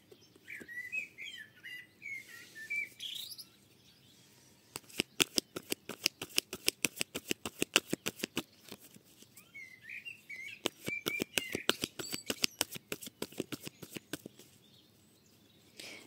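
Birds chirp and sing outdoors in repeated bright phrases, with bursts of sharp clicking card shuffling alongside them; no one speaks.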